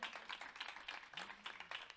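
After an online concert at La Guajira, a small audience gives the camera and sound crew scattered, uneven clapping, quiet and close with distinct individual claps.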